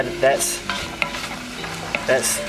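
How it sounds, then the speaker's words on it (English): Tomatoes sizzle softly in a pan while a utensil stirs and clinks against it in several short scrapes, close up and fairly quiet. "Heard these sizzling away and I think they're done"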